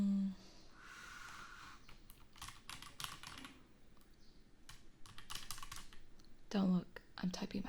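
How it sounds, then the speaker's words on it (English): Quiet, close bursts of clicking on a laptop keyboard as a password goes in, with a brief murmur of voice at one point and short gaps between runs of keystrokes. "Don't look, I'm typing my password."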